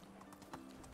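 Horse hooves clip-clop in the medieval life-sim game Medieval Dynasty, a few quick, fairly faint hoofbeats in a steady trot over a low background hum.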